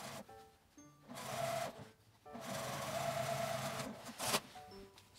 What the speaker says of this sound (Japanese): 上の細い布を中表に重ねて1センチの縫い代で縫います。